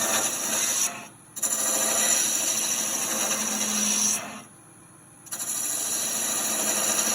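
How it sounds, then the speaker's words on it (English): A detail gouge cuts a mortar on a wood lathe with a steady, close scraping rasp. The cut breaks off twice for brief pauses as the tool lifts away, then resumes. "I'm using a detail gouge again."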